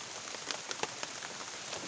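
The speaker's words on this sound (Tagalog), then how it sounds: "lumakas yung ulan." Heavy rain pours steadily onto a surface, a dense hiss broken by scattered louder drops pattering close by, with no voices.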